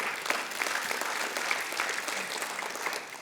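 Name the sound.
congregation applause for God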